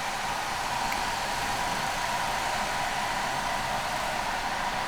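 Gas go-karts race through the S turns of an indoor/outdoor track, a steady high-pitched buzzing engine drone at a distance that holds continuous and even throughout, with no voices.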